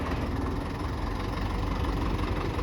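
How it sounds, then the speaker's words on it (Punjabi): A new tractor engine runs at a steady idle, a low continuous throbbing drone heard close with no speech. "ਟਰੈਕਟਰ ਪੂਰਾ ਸ਼ੌਂਕ ਨਾਲ ਤਿਆਰ ਕੀਤਾ ਹੋਇਆ ਸਾਊਂਡ ਬਹੁਤ ਵਧੀਆ ਆਈ ਜਾਂਦਾ"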